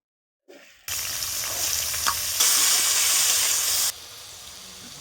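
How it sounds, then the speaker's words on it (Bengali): Small-cut potatoes lightly frying in oil in a pan for a cabbage curry, a loud close steady sizzle that swells for a moment and then eases back. "আলুটাকে আমি ভেজে নেব, হালকা ভেজে নিয়ে আমি বাঁধাকপি দেবো।"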